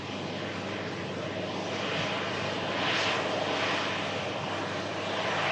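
An airliner taxiing at an airport, a steady broadband jet engine roar that swells gently in the middle, heard from some distance with no voices.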